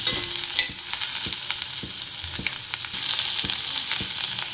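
Dried red chillies fry in hot oil with a steady broadband sizzle, broken by scattered stirring clinks and scrapes of a spoon against the pan, close and without talk.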